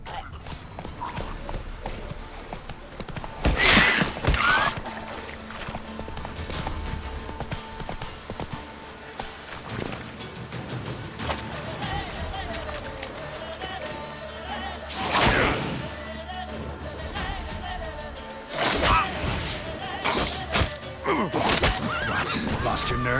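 A horse gallops and neighs in The Witcher 3: Wild Hunt video game, with steady clip-clop hoofbeats under several loud whinnies, and voices speak briefly between them.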